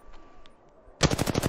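Rapid automatic gunfire from a weapon in the video game Apex Legends bursts in after a second of quiet background, a loud, close string of closely spaced shots running to the end.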